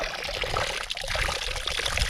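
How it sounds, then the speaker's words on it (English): Water pours and trickles over the rim of a horse's water trough on a ranch, a steady splashing stream heard up close with no talk. "I am, once again, overflowing the horse's water, which seems to be a regular occurrence."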